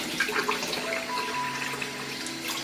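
Razor clams, blanched in ginger-scallion water, rinsed under a running kitchen tap, with a steady close stream of water splashing into a sink and light handling noises throughout.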